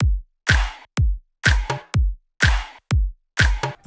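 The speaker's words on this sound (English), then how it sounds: "I created a simple for the floor beat and layered a clap on the 2 and the 4" A steady electronic kick drum thumps four to the bar, with sharp hand claps on every other beat. Loud and clean, no voices.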